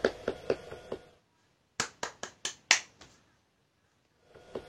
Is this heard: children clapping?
yes